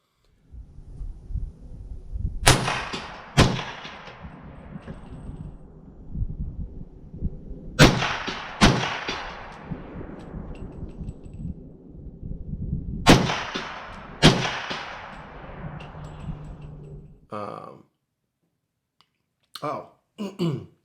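AR15 rifle fired outdoors in quick pairs and short strings, loud sharp cracks each trailing a long echoing decay, three separate bursts followed by a brief pause and a few lighter clicks.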